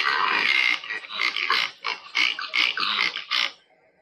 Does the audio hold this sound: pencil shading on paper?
no